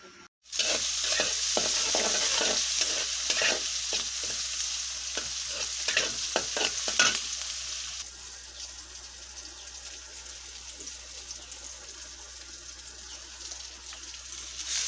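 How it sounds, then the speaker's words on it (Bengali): Jute leaves (pat shak) fry in a pan with a steady loud sizzle and repeated stirring scrapes, and the sizzle drops to a softer hiss partway through. "শাকগুলো রান্না করতেছি, পাট শাক ভাজি করতেছি।"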